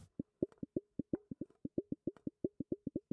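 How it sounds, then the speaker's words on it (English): A rapid series of about twenty hollow, bouncy metallic plops from a flexed aluminium can, fairly quiet and close, in a quick steady rhythm. "Wobbling an aluminium can in and out."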